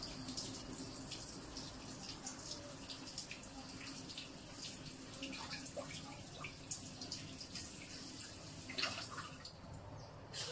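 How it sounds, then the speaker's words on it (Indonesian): Water trickles and splashes faintly into a coconut milk carton, a quiet, uneven running-water sound with small drips and sloshes throughout. "so kita masukkan air dalam kotak ni."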